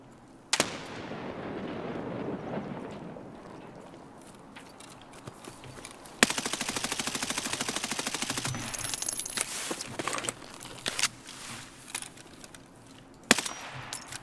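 Gunfire rattles through Escape from Tarkov: a sharp opening shot, then a long, steady burst of rapid automatic fire and further scattered shots, loud and close, with no talking over it.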